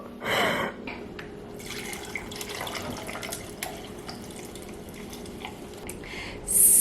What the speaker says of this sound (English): you pour it halfway up in the cup